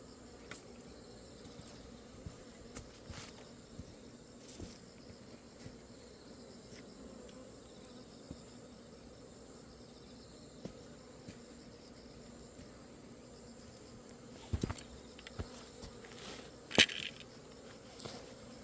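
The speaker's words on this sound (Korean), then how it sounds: "불과 몇 분 지나지도 않았는데 다시 벌들이 모여들고 있죠." Honeybees drone faintly around a hive after formic acid fumigation, a thin continuous buzz with scattered ticks and a couple of louder knocks near the end, heard from close but quiet overall.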